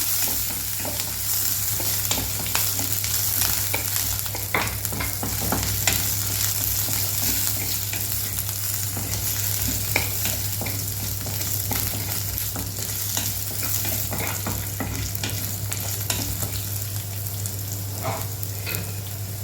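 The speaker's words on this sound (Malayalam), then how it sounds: "എന്നിട്ട് ഇതിലേക്ക് തേണ്ട നമ്മുടെ ഇഞ്ചിയും വെളുത്തുള്ളിയും ചേർത്ത് കൊടുക്കുന്നുണ്ട്. ഒന്ന് സോട്ട് ചെയ്ത് കൊടുക്കാം." Dal, ginger and garlic sautéing in a pan for Karaikudi kara chutney, a steady close sizzle with frequent scraping stirs throughout and a constant low hum beneath, no voices.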